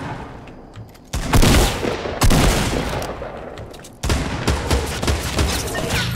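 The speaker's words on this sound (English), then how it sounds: "You're lucky I'm a sniper with this shotgun, baby." Three loud shotgun blasts in Fortnite, each a sharp crack with a lingering rumbling tail, spaced a second or two apart, with no talking.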